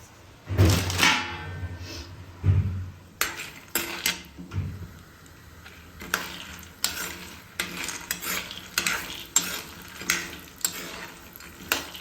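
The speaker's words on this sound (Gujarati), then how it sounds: "હવે આપણે મગફળીના દાણા છે ને એ તળશું નહીં, પણ આવી રીતના ઓછા તેલમાં સાતળી લેશું" Peanuts roasting in a little oil in a pan for puffed-rice chivda, heard as a soft sizzle under repeated stirring scrapes and knocks of a utensil against the pan, with a few louder clanks.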